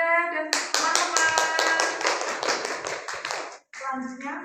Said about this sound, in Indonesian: tepuk tangan buat Manda dan teman-teman